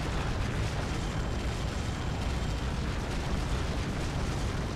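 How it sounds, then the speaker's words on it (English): A sustained, roaring explosion from the Bayonetta finale on Wii U, a dense rumbling blast with no distinct onset, holding steady and loud throughout without voices. "and then it explodes. You have to run from the explosion."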